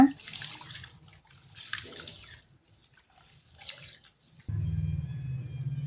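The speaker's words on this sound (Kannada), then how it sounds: "ಈಗ ಈ ಕಾಳು ಮತ್ತು ಅಕ್ಕಿಗೆ ನೀರನ್ನು ಸೇರಿಸಿ ಎರಡರಿಂದ ಮೂರು ಸಲ ಚೆನ್ನಾಗಿ ತೊಳ್ಕೊಳ್ಳೋಣ" Horse gram and rice being washed in water in a kitchen, with scattered swishing and trickling through the first part, then a steady louder stream of tap water running near for the last second and a half.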